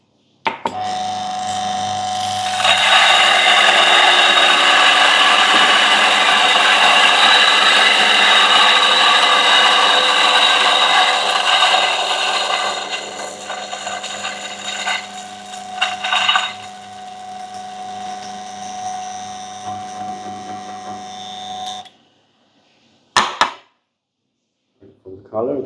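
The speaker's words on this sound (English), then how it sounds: "Let's grind the coffee." Electric grinder milling about 20 grams of coffee beans, a loud steady whirring grind that runs continuously for about twenty seconds, then cuts off, followed by a couple of brief knocks.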